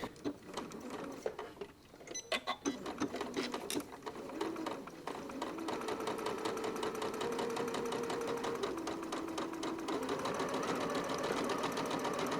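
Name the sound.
sewing machine back stitching a zippered welt pocket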